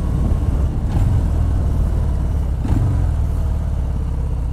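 A 2019 Harley-Davidson FXDR 114 motorcycle engine while riding, a loud, continuous low rumble with deep pulsing throb, swelling slightly twice as the throttle shifts.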